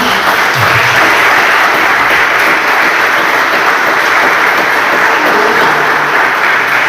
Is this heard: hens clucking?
no